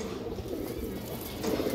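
Pigeon cooing, a soft, low, throaty call heard faintly and briefly against quiet background noise.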